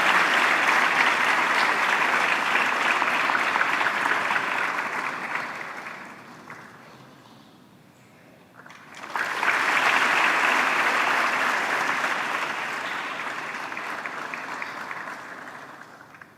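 Loud audience applause welcoming Mrs. Manju Singhal from Canada on stage at a centenary cultural festival at Sathya Sai Gram: a sustained crowd clapping that dies down around six seconds, briefly goes quiet, then swells again and continues.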